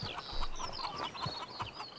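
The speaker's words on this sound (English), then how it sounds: "there's some chickens." Chickens in the Pure Farming 2018 farming game cluck and chatter close by, a busy flock with short repeated calls and no talking over them.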